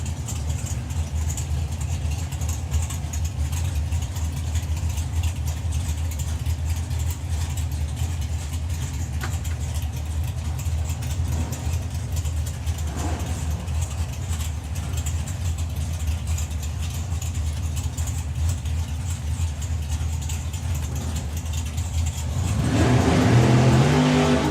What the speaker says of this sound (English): Heard the difference in throttle stops between the 2 cars there.